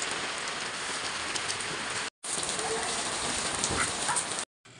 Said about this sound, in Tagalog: pasulpot-sulpot ngayong malakas na ulan. Tapos sinasabayan pa ng hangin yan guys.